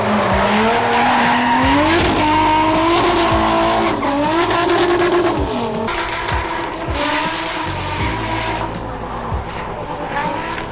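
A Nissan 240SX race car on a qualifying lap at a drift event, its engine loudly revving up and down in rising sweeps while the tires squeal and skid close by.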